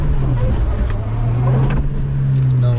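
A car engine runs loud and close as the car reverses, holding a steady low drone without clear revving.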